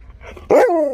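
A pet husky lets out one sharp, close bark that falls into a short whine, following a few soft snuffling sounds.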